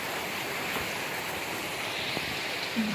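Small mountain creek in Pisgah Forest flowing steadily as a constant broadband wash, close and continuous, with light wind on the microphone and no voices.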